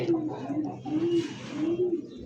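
Pigeons cooing in low, repeated rolling coos, close by, with faint background rustle and murmur.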